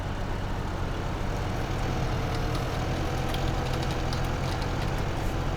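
A tractor engine idles in Farming Simulator 15, a steady, even low drone that holds unchanged throughout with no talking.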